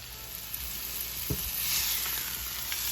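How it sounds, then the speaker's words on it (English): A beef roast sears in a hot pan for pot roast, giving a steady, close hiss and sizzle of frying with a few brief crackles and a soft clunk partway through, with no talk. "We're going to sear this for about 5 minutes or so on each side until each side is nice and brown"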